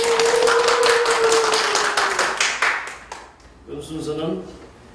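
An audience at a charity concert applauds in a fast, dense burst under a sustained tone. The clapping thins and fades toward the end as a voice begins speaking.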